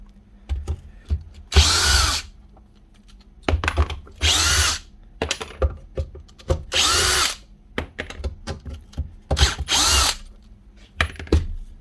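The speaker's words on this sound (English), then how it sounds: "We need to take out these here 4 bolts." Power drill backing bolts out of a Makita jobsite radio during repair, loud whirring bursts of about a second each separated by short gaps and small clicks of handling, no talk.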